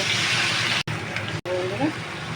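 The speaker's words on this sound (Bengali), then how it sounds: "দেবো একটু জল দিয়ে দেবো" Water gushes steadily as it is poured into a cooking pot, a continuous close splashing pour broken by two brief gaps.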